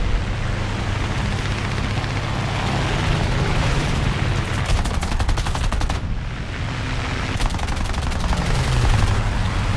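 Aircraft machine guns in War Thunder hammer out long rapid bursts over a constant engine drone, loud and close, with a short pause midway before firing resumes.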